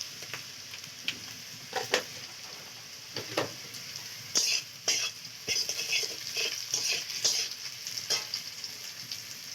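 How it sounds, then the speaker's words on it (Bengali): Onion and whole white cumin frying in oil in a pan at an outdoor village kitchen in the Sundarbans, with soft sizzling under repeated sharp scrapes and taps of a stirring spoon, close and steady. "তো পেঁয়াজটা ভাজা হয়ে গেছে, দিয়ে দেবো গোটা জিরে, সাদা জিরে।"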